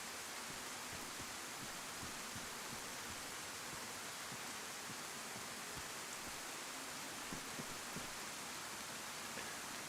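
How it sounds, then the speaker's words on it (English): Steady, hissing rain in the survival game DayZ, a dense wash of patter that stays constant and fairly quiet throughout, with no voices. "And in this rain, you'll probably find it harder to hear the footsteps."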